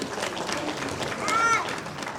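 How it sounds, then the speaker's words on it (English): An audience at a university inaugural lecture applauds a distinguished professor of education being welcomed, with a soft, distant patter of clapping in a large hall and a faint whistle-like tone partway through. "Please give him a round of applause."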